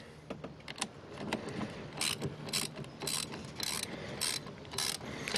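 A wrench works loose the terminal nut on a car battery with close, quick ratcheting clicks and metallic scrapes in short bursts.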